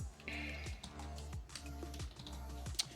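Fast, steady typing on a computer keyboard, with clicky keystrokes close to the mic over a constant low electrical hum and no talking.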